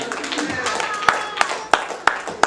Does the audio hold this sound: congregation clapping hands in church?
yes